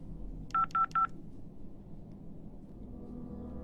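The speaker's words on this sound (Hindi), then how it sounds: "एक काम कर, सूरज का फोन लगा।" Three quick telephone keypad dialing tones, evenly spaced and clear, over a low background hum with no talking.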